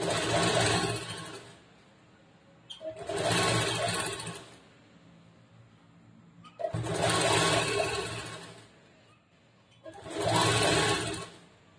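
Sewing machine running in four bursts of steady whirring stitches, stitching about a quarter inch along piping on a blouse neckline, with short quiet pauses between runs.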